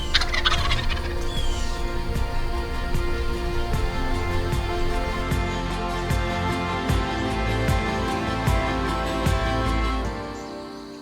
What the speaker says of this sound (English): an ecosystem that once resounded with the call of the bobwhite and the gobble of the wild turkey